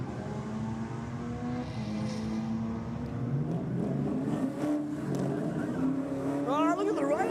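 Drag race cars launch at the strip, one running a nitrous-assisted 5.7 litre engine, revving and accelerating with rising engine tones under a commentator's voice, the climb sharpening toward the end.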